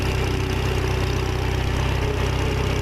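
A big industrial-style wheel loader's engine idling steadily, a low, even diesel rumble with a regular pulsing beat, close and alone.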